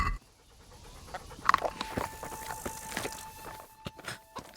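Mutt, the dog in Kingdom Come: Deliverance, pants in quick, steady breaths close by, along with light footstep patter and faint soft game ambience.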